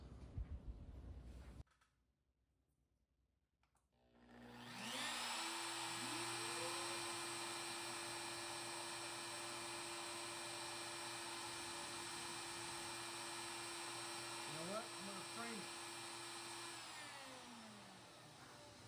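A Lowrider 4 CNC router spins up after a short silent gap, then holds a loud, steady high-pitched whine while cutting a shallow 1/16-inch-deep square, with faint tonal shifts as the head changes direction.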